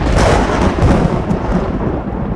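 A loud thunderclap bursts near and sharp, then rolls off into a broad, noisy crash that slowly fades.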